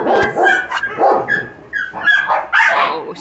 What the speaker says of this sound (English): Puppy! Come here, Dick.